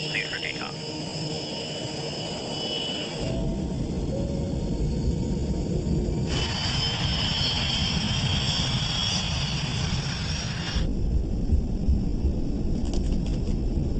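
A West Caribbean jet airliner takes off from runway 21 left at Panama's Tocumen airport at night, a steady loud engine roar and rumble that swells in stages, with high whine bands coming and going throughout.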